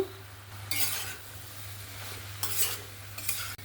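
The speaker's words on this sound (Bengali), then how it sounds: "দিয়ে আবার একটু নাড়াচাড়া করে নেব।" Ash gourd curry with moong dal and fish head is stirred in a pot, quiet scraping and clinking strokes of a spoon in short bursts over a low background hum and faint sizzle.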